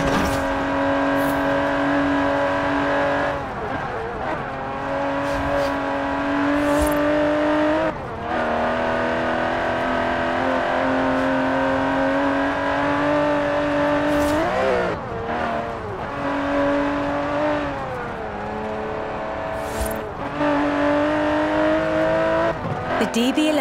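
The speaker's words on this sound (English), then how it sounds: "that's an Aston Martin." Loud, sustained roar of an Aston Martin DB11's twin-turbo V12 in Forza Horizon 4, with repeated rev swings and gear changes and occasional brief tire squeals, up close and continuous throughout.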